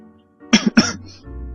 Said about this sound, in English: Like coughing right in your ear.